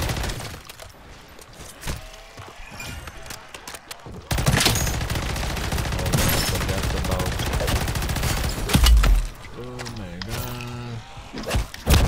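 BP50 rifle gunfire in Call of Duty MW3 Zombies, a dense sustained burst of rapid automatic shots with crashing impacts that runs for several seconds, set among quieter game noise, with someone talking before and after it.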